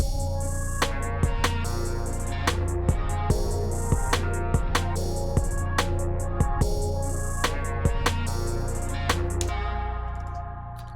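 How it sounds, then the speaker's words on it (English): A looping trap music beat with steady drum hits, kick and snare repeating in a regular rhythm over a sustained melodic chord sample, stopping near the end. "You put drums on it, sounds like this."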